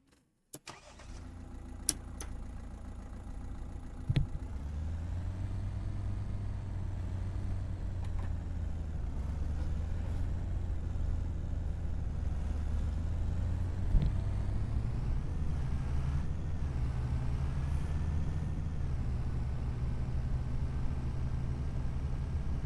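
Car driving in Farming Simulator 25 on the Riverview map: a brief startup clatter, then a steady low engine drone that holds close and even throughout, with slight rises in pitch, and no voices.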